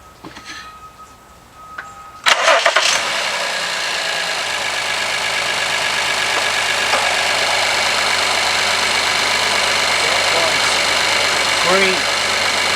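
An Acura RLX engine cranks and starts after fuel injector replacement, with a sharp catch followed by a steady, loud idle that holds for the rest of the clip.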